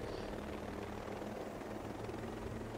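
Helicopter in the video game Ghost Recon Breakpoint, a steady, dense rotor and engine drone filling the whole stretch at constant level, with no talking over it.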